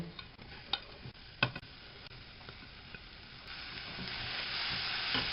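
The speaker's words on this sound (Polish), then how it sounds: "Smażymy już bardzo króciutko i dodajemy posiekane pieczarki." Steady sizzling and crackling of chopped mushrooms frying in a pan, with occasional sharp clicks of stirring, growing slightly louder toward the end.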